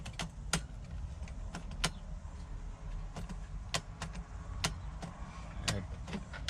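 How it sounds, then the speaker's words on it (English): Keys jangling and clicking into the ignition of a Mercedes Sprinter van that has a no-start problem, with a series of sharp metallic ticks and rattles, close up, over a low background rumble. "I'll put the key in."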